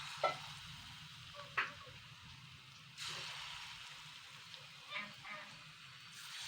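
Ripe banana batter frying in refined oil in a wok, a quiet steady sizzle with a few sharp crackles and spoon clinks as portions drop into the hot oil, softly close.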